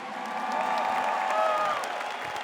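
A crowd at a Catholic youth event claps and cheers in sustained applause, a dense, continuous roar heard from a distance with scattered whoops, steady across the whole stretch.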